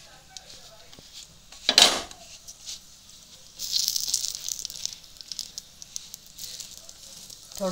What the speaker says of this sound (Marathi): थोडंसं तेल टाकून आपण पापड असा हा भाजून घेणार आहोत